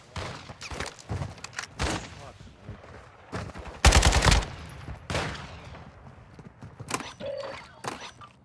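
Scattered gunfire in the shooter Call of Duty Warzone DMZ, sharp separate shots with one dense loud burst in the middle, mixed with footsteps and game noise as players talk.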